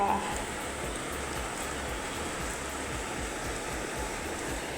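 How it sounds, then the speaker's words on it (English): Heavy rain pours outdoors during an Isuzu D-Max restoration, a steady dense hiss of falling water that holds the same loud level from start to finish, with no voices over it. "It's raining too much now,"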